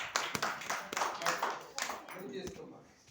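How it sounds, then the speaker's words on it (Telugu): Children clap at a Christmas gathering, sparse and irregular sharp claps scattered over a murmur of voices and talk. "చప్పట్లు కొట్టాలి."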